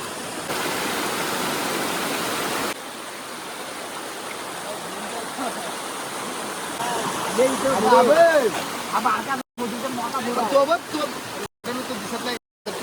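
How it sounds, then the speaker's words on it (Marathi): A waterfall in a village setting, heard as a steady broad rush throughout, with people talking nearby over the roar in the second half. "तो काय धबधबा पुढं"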